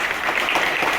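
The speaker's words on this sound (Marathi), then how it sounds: "जोरदार आपण त्यांच्यासाठी टाळ्या वाजूया" An audience at a school gathering applauds the headmistress in a short burst of dense, continuous clapping.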